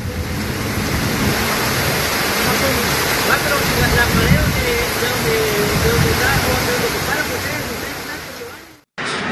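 Floodwater from an overflowing river in Guatemala rushes through streets, carrying mud and debris; a loud, continuous roar of churning water close by, with a narrator speaking over it, before a brief cut near the end.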